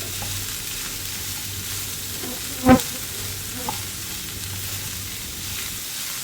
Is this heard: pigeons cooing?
no